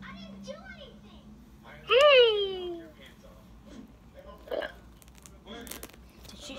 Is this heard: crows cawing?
no